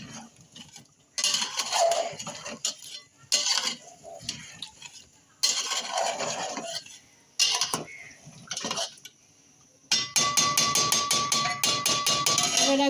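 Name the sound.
stirring mutton and potato curry in a pot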